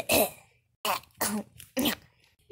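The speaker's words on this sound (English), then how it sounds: "I got a fake cough" Four forced, deliberate coughs in a row, separated by short pauses, close to the microphone in a quiet room, a fake cough.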